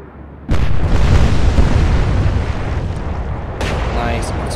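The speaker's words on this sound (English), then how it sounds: "Nice explosion." A naval battle explosion in the warship video game Atlantic Fleet: a sudden loud boom that breaks into a long, rumbling roar, followed by another burst near the end.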